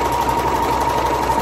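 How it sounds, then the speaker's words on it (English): A serger overlocker runs steadily through fabric seams at a 3/8 inch allowance, giving a continuous close mechanical whir with a fast even rhythm throughout and no talk. "I use a serger just like Jess does. I'm just gonna serge them straight through"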